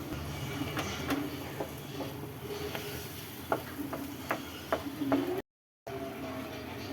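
Mango barfi mixture stirred in a kadai, a steady low bubbling sizzle with a series of light scraping clicks from the spoon against the pan, close and continuous.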